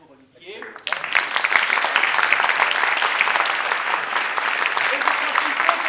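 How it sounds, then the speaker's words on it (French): Audience at a theatre performance bursts into applause after a short quiet start, with dense, steady clapping that stays loud and even through to the end. "Et je profite de ces applaudissements pour vous dire bon spectacle et bien du plaisir à toutes et à tous."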